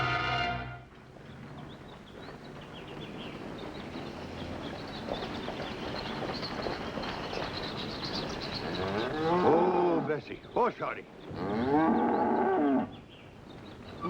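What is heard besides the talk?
cow mooing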